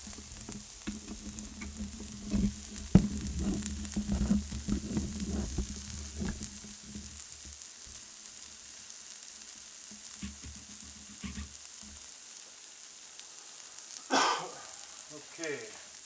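A pizza breakfast omelette with pepperoni sizzles steadily in a pan over medium heat, a constant frying hiss with some stirring clatter early on and a brief louder burst near the end.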